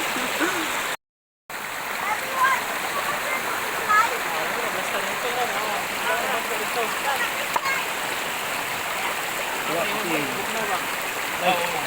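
A stream in a bamboo garden rushes and gurgles steadily for the whole stretch, a dense broadband wash of flowing water with small splashes, cut once by a brief dropout.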